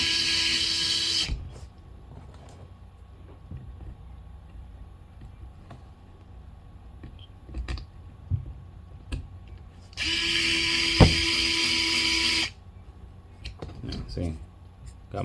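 A power drill drives screws while tires are installed, giving two loud whirring bursts, one at the start and a longer one near the end, separated by quieter clicks and handling sounds, with a voice speaking between them.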